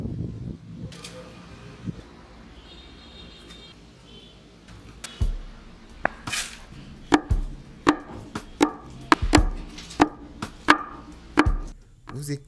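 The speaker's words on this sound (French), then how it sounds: "Vous écrasez ou vous pilez tout cela." Herbs and ogiri mustard being crushed and pounded, heard as a quiet start and then a run of sharp, regular thuds that speed up and grow louder toward the end, close and with no talk.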